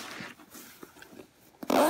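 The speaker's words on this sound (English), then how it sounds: "It has a nice zipper." The zipper on a new bag is pulled open close to the microphone, a series of short, soft rasping bursts that ends in a louder scratchy pull.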